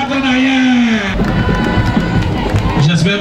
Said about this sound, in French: Oh là, c'est applaudissement là.